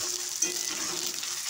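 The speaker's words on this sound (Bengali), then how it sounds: "আর তার সাথে আমি আদা বাটা ঢেলে দিলাম, এটাকে হালকা একটু ফ্রাই করে নেব।" Ginger paste sizzling and frying in hot oil in a pan for a chicken curry, a steady bright hiss throughout with a small pop near the start, close and alone without talk.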